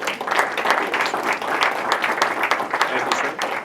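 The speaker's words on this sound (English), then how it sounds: "So a round of applause in advance." A crowd at a talk about a young drone flyer gives a round of applause, with individual claps crisp and distinct in a lively, even burst and some voices mixed in.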